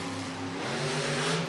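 Engine of the Bounty Hunter monster truck, driven by Jimmy Creten, revving at a Monster Jam event in Phoenix in 2009, a loud throaty drone that shifts pitch and swells slightly under crowd-like ambience.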